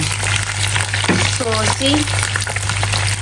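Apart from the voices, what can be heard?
boiled eggs frying and popping in oil for egg curry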